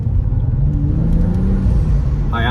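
BMW F32 435i accelerating hard, a deep, loud engine rumble that builds steadily from inside the car, with a brief rise in pitch near the end.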